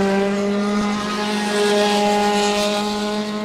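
Race cars passing at a Sebring race: a loud, sustained engine roar with steady harmonic tones, close by and swelling slightly as the cars go past, with no talk over it.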